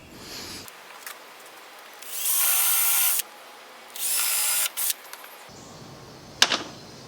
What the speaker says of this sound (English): always remember to drill pilot holes wherever you're going to put a screw.